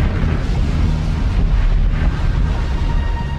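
Vesuvius volcanic eruption rendered as a dense, continuous roar, deep rumbling with a broad wash of noise, loud and unbroken throughout.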